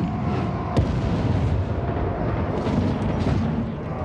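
A heavy cannon-like boom bursts out near the start, followed by a dense, rumbling wash of game noise and smaller impacts, in Total War: Warhammer's Vortex campaign.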